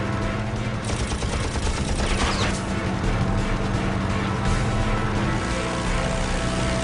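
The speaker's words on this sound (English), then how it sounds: "McGee opens fire." Aircraft .50 caliber machine guns fire at a German Focke-Wulf 190 fighter in rapid bursts, a dense, loud clatter layered over a steady propeller engine roar throughout.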